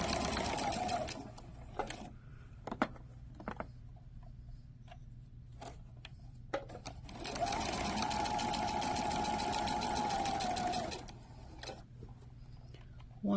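A sewing machine stitches bias facing onto a garment neckline: a short run of stitching, then scattered clicks and handling, then a steady, louder burst of several seconds before it stops.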